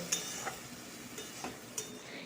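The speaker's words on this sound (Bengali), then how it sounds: "শাকগুলোকে এরমভাবে কষিয়ে নেব দেখুন শাকগুলো কষাতে কষাতে জল বেরিয়ে যাবে" Radish greens are sautéed in a pan, giving off a soft, low sizzle, while a spatula stirs them with a few scattered scrapes and light clicks at irregular intervals.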